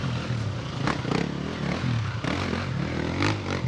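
Enduro motorcycles racing, engines revving hard in a loud, continuous rough roar with rising and falling surges and some scraping clatter, heard close throughout.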